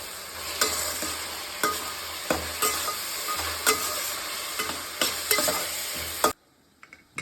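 Mint stirred into mutton gravy fries in a pan, with a steady sizzle and repeated scraping stir strokes, close and continuous, stopping abruptly near the end.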